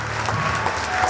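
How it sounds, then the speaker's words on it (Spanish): A church congregation bursts into loud, sustained applause for God during a worship service, dense steady clapping filling the room from start to finish, with a faint murmur of voices underneath. "Fuertes aplausos a nuestro Dios."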